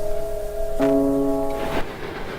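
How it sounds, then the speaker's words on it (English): A train passes by, with a sustained tonal hum that swells and thickens partway through, then cuts off and leaves a quieter rumble at moderate loudness. "The train goes by."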